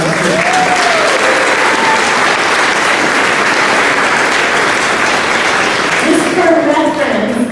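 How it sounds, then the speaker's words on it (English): A loud, sustained burst of audience clapping at an elementary school spring band concert, steady and dense from start to finish, with voices faintly audible toward the end. "So let's clap for your French horn"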